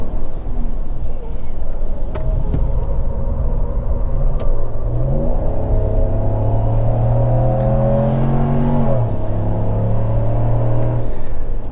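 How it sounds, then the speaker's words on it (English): A 2026 Ram 1500 pickup with its HEMI V8 revs hard on an autocross course, a loud, close engine roar climbing in pitch in steady sweeps, dipping and rising again over continuous rumble and road noise. "we get to hear the V8 roar a bit and, you know, make some tire noise"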